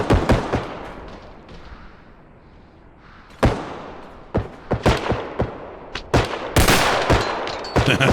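Gunfire in the video game Bodycam: a brief early burst, a quieter lull, then sharp close shots and rapid volleys cracking loudly through the second half with no talk.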